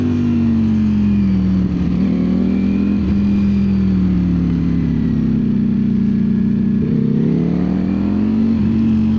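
A 2025 Ducati Streetfighter V4S ridden along a winding road gives a loud, close engine drone that rises and falls steadily with throttle through the corners, heard continuously without any speech.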